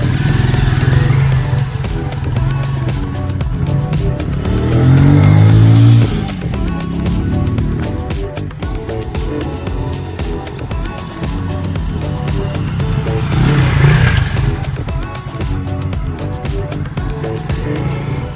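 KP Mini minibike fitted with a cargo rack, ridden with a small engine buzzing loudly and revving up and down in waves, near and continuous.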